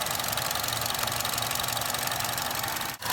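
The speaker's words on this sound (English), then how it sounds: "It's been about 15 minutes of the engine running at idle" A Chevy Cruze, Malibu or Impala engine idles steadily after running for about fifteen minutes, a close, even mechanical rumble with a faint knocking texture that holds constant throughout, with a brief dip near the end.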